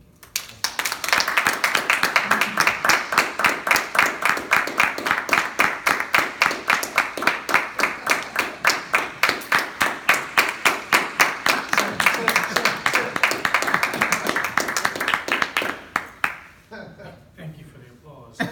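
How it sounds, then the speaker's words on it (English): Rhythmic, sustained clapping from a Toastmasters club meeting audience, a regular pulsing beat of applause lasting about fifteen seconds before stopping abruptly, followed by brief quiet room sound. "Thank you for the applause."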